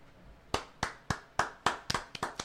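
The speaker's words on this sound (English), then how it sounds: "Shouldn't we do a slow clap?" People in a room give a slow clap, about nine separate hand claps at a steady, deliberate pace that quickens slightly toward the end, close and clear with no talking.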